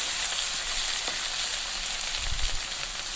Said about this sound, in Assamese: এতিয়া আমি ইয়াত কচু আৰু আলু পিচকেইটা অলপ ফ্ৰাই কৰি ল'ম।